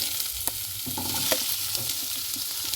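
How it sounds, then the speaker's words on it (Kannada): Onion frying with dried red chillies in a pan gives a steady, close hiss of sizzling oil, broken by soft stirring scrapes, with no voices over it. "ಇವಾಗ ನಾನು ಉಳ್ಳಾಗಡ್ಡೆ ಹಾಕ್ತೀನಿ"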